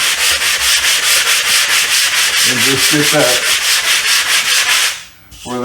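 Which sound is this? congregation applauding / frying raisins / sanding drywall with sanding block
sanding drywall with sanding block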